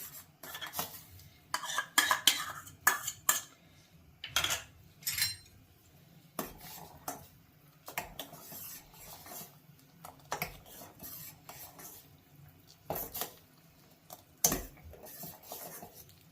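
Custard powder being stirred into boiling milk in a kitchen pot: a spoon scrapes and clinks irregularly against the metal sides, in short bursts with quiet gaps between them, close up and with no talking.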